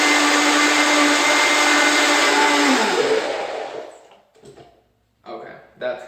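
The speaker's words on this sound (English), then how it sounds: "So I'm going to blend this up just a little bit more" A blender whirs loudly and steadily while processing coconut almond yogurt, then winds down and stops, followed by faint handling noises.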